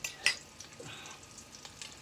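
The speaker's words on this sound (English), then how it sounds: "Stir the meat. Stir the meat." Meat stirred in a frying pan, a quiet sizzle broken by a few sharp scrapes and clicks of a utensil against the pan, short and close, with no speech.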